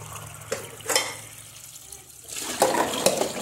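Water is poured into a 500 ml measuring cup, filled twice to make a liter for boiling. Soft splashes and trickles come in short bursts, then swell into a louder, close run of pouring toward the end.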